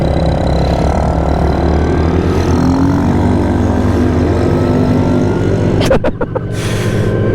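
A loud, steady quad bike engine idles and rumbles continuously, with a brief clatter and dip near the end before the motor carries on.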